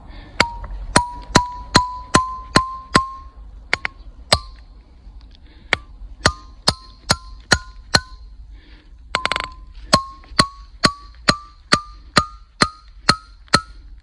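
Rocks are broken by hand with a hammer. Sharp, ringing metallic strikes come in a steady series of about two dozen blows, close to the microphone. Each hit leaves a short pinging tone, with a brief scraping shuffle partway through.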